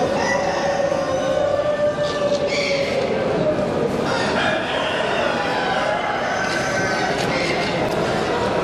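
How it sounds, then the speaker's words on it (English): Chickens and roosters at a poultry exposition in Bucharest, Sussex birds among them, cluck and crow through a dense wash of hall crowd noise and chatter. "Sussex chicken."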